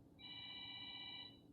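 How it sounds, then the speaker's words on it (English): A phone rings once with a steady, faint electronic trill lasting just over a second, alone with no voices. "my phone's ringing now."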